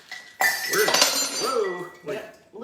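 A big ice cube drops into a drink glass with a sharp clink and clatter, followed by a few smaller knocks as it settles, close and loud.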